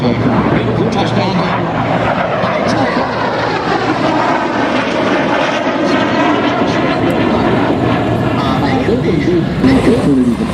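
A North American SNJ propeller aircraft flies at the Miramar air show, its loud, continuous engine drone filling the air while a voice talks over it.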